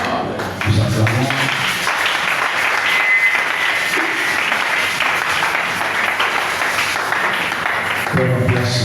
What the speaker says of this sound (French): Nous acclamons.